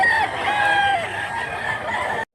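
A rooster crows loudly and close at a rural poultry farm in Mantalungon, Cebu, where roughly 2-kilo chickens are kept. One drawn-out crow rings out alone, with faint background noise.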